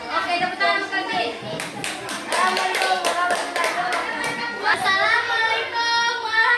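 Children clap their hands in a short burst of sharp, rhythmic claps, while young voices talk and sing over and around the clapping.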